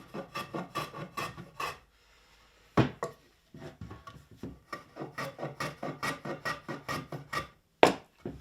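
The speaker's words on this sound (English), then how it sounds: "take a bead off the edges there, and if you do it now while it's all in bits, it's nice and easy" A hand tool rasps a bead along the edges of a wooden ship's cannon carriage, giving quick rhythmic strokes in bursts, close and fairly loud, broken by a pause and a few sharper knocks, with no speech.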